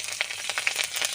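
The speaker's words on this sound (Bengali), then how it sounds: "প্রথমে কালো জিরে ফোড়ন দেব" Black cumin seeds tempering in hot oil for a mustard-greens dish, a bright, continuous sizzle with quick crackling pops, close and alone.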